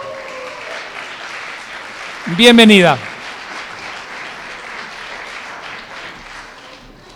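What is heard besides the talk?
audience ovation welcoming a speaker at a conference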